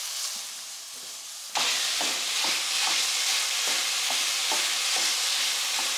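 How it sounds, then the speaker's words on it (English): Ground beef, a full pound, sizzles steadily in a hot pan on the stovetop, the frying starting abruptly and staying loud and continuous with repeated scraping stirs on top. "Let's cook up our 1 pound of ground beef"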